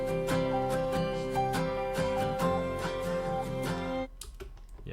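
A reversed instrumental passage closes out a song. Sustained backward-swelling chords with soft pulsing attacks run for about four seconds, then drop away abruptly into a faint, thin wash.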